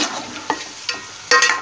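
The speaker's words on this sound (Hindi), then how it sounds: "चिकन को मैं भूनूंगी थोड़ी देर।" Chicken browning in a pot, a hissing sizzle broken by a few sharp scraping stirs, close and loud, with no voices.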